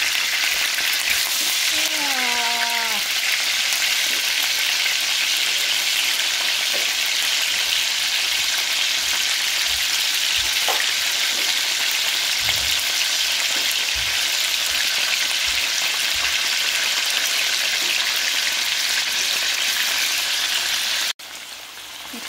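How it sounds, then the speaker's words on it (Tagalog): Tofu frying in a frying pan meant to be non-stick, a steady dense sizzle and crackle running throughout, loud and close, with a few faint clinks from stirring and no talking. "Ito bali fry muna natin siya. Iba-brownin natin."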